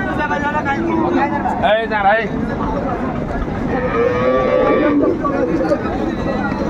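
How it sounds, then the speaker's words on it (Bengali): A cow and her calf moo at a dairy cattle market, two or three close bellows rising over steady crowd babble and nearby talking. "সুন্দর গাভী বাচ্চা।"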